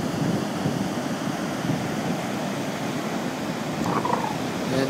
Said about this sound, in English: it's a breezy day today, little overcast